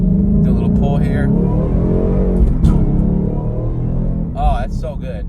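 A 775 hp Ford Mustang accelerates hard from inside the cabin, a loud, deep engine roar rising steadily through the pull, with a person's voice briefly over it.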